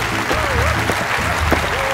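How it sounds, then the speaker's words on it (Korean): An audience claps to welcome a guest speaker at a children's Bible show. The short burst of applause sits under a tonal, sliding voice and low background sound. "자 박수로 환영해주세요"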